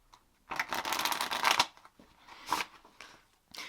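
A deck of tarot cards riffled in a long burst, then two shorter shuffles, crisp and close with no talking.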